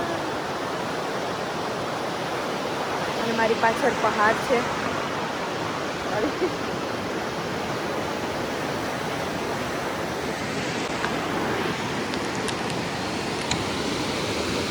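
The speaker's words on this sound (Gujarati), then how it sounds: "તો તમને અવાજ આવતો જ હશે બ્લુ કલરની નદીનો." A glacier-fed blue river in the mountains of British Columbia flows with a steady, broadband rushing roar that fills the scene throughout, while a person talks over it near the microphone.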